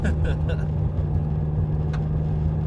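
A 1994 Nissan Pulsar GTI-R engine droning low and steady while the driver feathers the throttle in winter, with someone talking over the hum.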